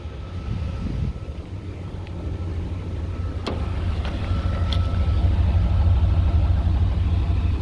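A 1990 GMC K1500 pickup truck engine idles with a steady low rumble that grows slightly louder over time, with light wind noise and no talking.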